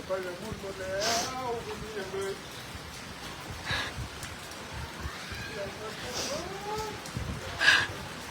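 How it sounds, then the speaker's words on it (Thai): Hail and rain pour down during a storm in Vientiane, Laos, a steady patter and rattle under several brief louder bursts, with voices talking faintly over it. "ฝนตกมันเห็บ"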